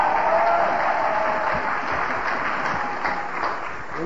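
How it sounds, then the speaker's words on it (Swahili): A church congregation claps together in sustained, dense applause, a steady wash of hand claps filling the room throughout without pause. "Piga makofi za Mungu wa mbinguni."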